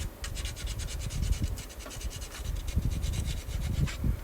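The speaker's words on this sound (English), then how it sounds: "I tape sanding paper around a wooden dowel to clean up the parting line on the wheel" Sandpaper wrapped around a wooden dowel rubs back and forth along the wheel-arch parting lines of a 1/24 Audi Sport Quattro S1 model kit part, a close, rhythmic scratchy rasping in quick regular strokes.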